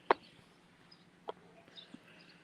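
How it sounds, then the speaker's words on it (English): Scattered bird calls on a quiet rural morning away from a highway: a few brief, faint chirps and clucks spaced over a couple of seconds against near silence, with no talking. "Hear the birds"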